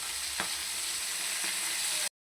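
Fish fries in a pan with a steady, bright hiss of hot oil, broken by two soft taps, before the sound cuts off abruptly.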